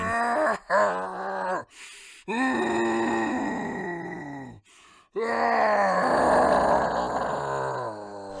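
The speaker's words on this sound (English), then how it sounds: "Parallax immediately imbues itself with Zod, screaming and shouting with a powerful yet delightful pain." A man groans and cries out in drawn-out, strained bursts of pain across the whole stretch, loud and close, with short gasping breaks between the vocal strains.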